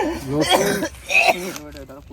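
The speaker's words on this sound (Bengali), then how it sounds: "সেই কাশি হচ্ছে" A few short throaty coughs and throat-clearing sounds, close to the microphone, mixed with a bit of voice.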